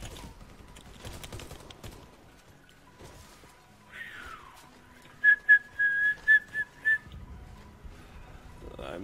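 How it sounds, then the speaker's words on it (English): Someone whistles a short run of clear, wavering notes during a live Warface first-person shooter match, preceded by in-game gunfire and clatter, fairly close and moderately loud. "I'm not whistling for any important reason."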